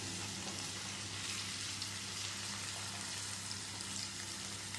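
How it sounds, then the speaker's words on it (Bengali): Ginger garlic paste frying in a pan with raw jackfruit for a dry chilli dish gives a dense, even sizzle, close and unbroken, with faint stirring beneath and no talk. "1 চামচ মতো আদা রসুনের পেস্ট দিয়ে দিচ্ছি। দিয়ে নেড়ে ছেড়ে নেব।"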